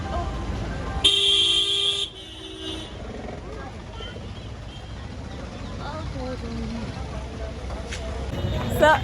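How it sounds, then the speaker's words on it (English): Free bus heading to the Golden Temple, rumbling along with a loud horn blast near the start, engine and road noise continuing underneath, traffic around it and a faint horn late on. "this is the free bus. It has just arrived, which is headed to the Golden Temple."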